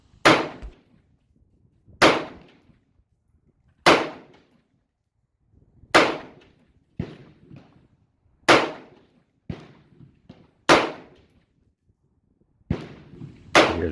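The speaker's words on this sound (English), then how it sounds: "Here's that smooth AR reload." A Del-Ton AR-15 rifle fires sharp single shots spaced a second or two apart, each with a ringing tail, and a few quieter metallic clacks of handling mixed in.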